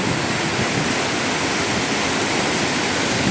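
Water pours forcefully over Papanasam dam in a dense, constant roar of falling water, loud and close, with no voices.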